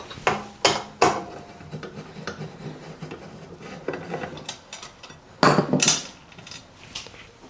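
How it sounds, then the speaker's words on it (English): Screws being backed out of the side panels on a Wendougee Lita espresso machine: a series of sharp metallic clicks and ratcheting taps from a screwdriver, close by and fairly loud, in uneven bursts with a louder cluster near the end, no talking. "to remove the side panels, we simply just remove 1 screw on each side"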